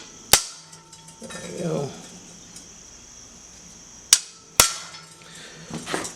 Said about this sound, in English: I'm going to very carefully center punch this.